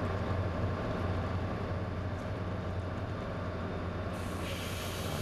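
A train stands at a station while passengers board for a winter send-off, with a steady low rumble and hiss that stays faint and continuous throughout.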